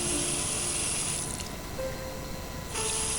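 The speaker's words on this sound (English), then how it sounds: "Turn the water back on and stop it." Water runs steadily from a bathroom faucet after a stuck Moen 1224 cartridge replacement, a broad continuous rush with a brief mechanical ratcheting at the valve, close and alone with no talk.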